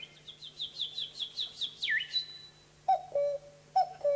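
A man whistles imitation bird calls: a quick series of rising chirps, a downward swoop, then two sustained two-note whistles, clear and close with no talking.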